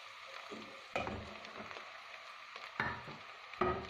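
Onions and flour roast in a pan, a soft low sizzle with a few sharper scraping stirs and clicks of a spoon, heard close and fairly quiet.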